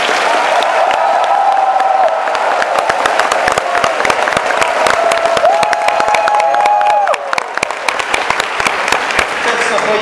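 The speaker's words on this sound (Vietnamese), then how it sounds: "Nếu mà hiểu thì hãy một tràng pháo tay thật đông nhé" A large conference audience at an Amway business event breaks into loud, sustained applause with cheering, a dense roar of many hands that fills the room and holds steady, while a voice briefly carries over it.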